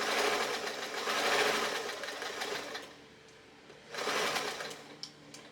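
A sewing machine runs two parallel lines of gathering stitches: a steady mechanical whirring burst, a short pause, then a second burst, close up with no talking.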